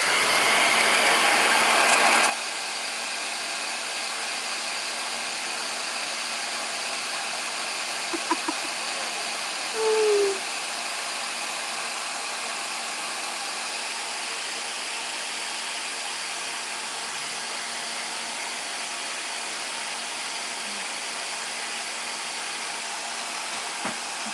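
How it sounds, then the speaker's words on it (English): A blow dryer runs with a steady high-pitched whirring hiss, fairly close, with a few faint clicks and bumps over it. "I'm going to hit this with the blow dryer"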